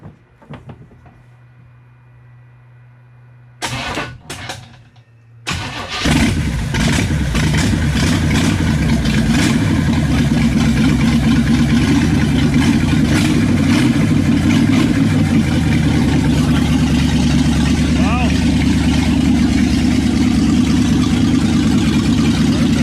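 A 1957 Chevy engine cranks over in a few short bursts, then catches and settles into a steady, loud, close idle that runs on without talk.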